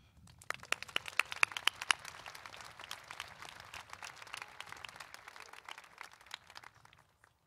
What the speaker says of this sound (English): Please give a warm round of applause to Miss Angela Bayer.